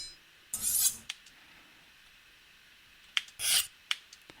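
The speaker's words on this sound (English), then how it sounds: "I'm going to find the place where there's a knife being pulled out of a sheathing" Knife being pulled out of a sheath, two separate quick scraping slides with sharp metallic rasps, each followed by a small click, heard close and alone against near silence.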